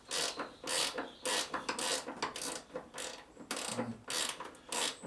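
A bolt is undone with a ratchet on a Jaguar XJ-S bonnet, heard as rapid, close clicking bursts in an irregular rhythm with short pauses between pulls.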